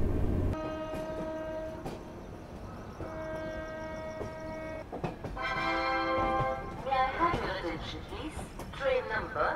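Rajdhani Express pulling into Kanpur Central station, its horn sounding in several long loud blasts over rumbling wheels and clatter, with a busy platform and voices around.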